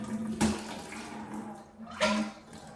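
Water runs slowly from a tap into a bucket, a faint steady trickle with a couple of louder clunks and splashes, close and quiet, with no voices.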